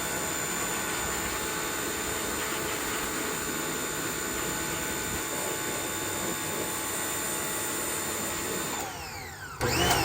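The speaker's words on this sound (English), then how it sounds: "It just keeps doing the blow-off valve noise." A faulty pressure washer runs loud and steady with a constant whining hiss, surging and cutting out near the end with a sharp burst like a blow-off valve releasing.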